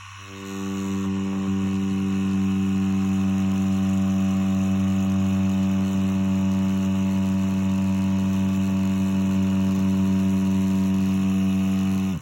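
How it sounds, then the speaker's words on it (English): A tattoo machine needle puncturing skin makes a steady electric buzzing drone, loud and continuous, with a low mechanical hum running throughout and no voices. "you can literally hear the skin break and the ink being inputted into the skin"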